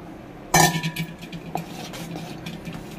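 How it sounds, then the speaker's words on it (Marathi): A spoon scrapes and clinks in a pot of cooked toor dal with brinjal, drumstick pods and pumpkin, mixed for sambar: one sharp metallic knock, then softer stirring clinks and scrapes, close and with no voices. "पूर्ण मिक्स करून घेऊया"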